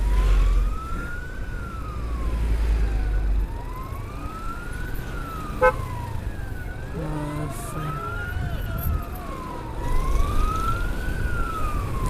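An ambulance siren on escort along the Palembang–Betung highway wails in long, steady rising and falling sweeps, loud and continuous over road rumble and traffic noise.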